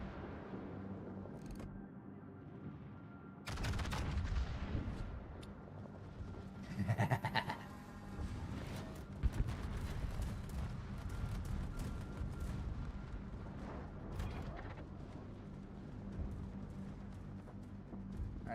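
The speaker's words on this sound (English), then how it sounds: "Rockets." Rockets firing from a US destroyer in World of Warships, a burst of layered booms and crackling launches around seven seconds over a steady rumbling game background, with further scattered thuds afterward.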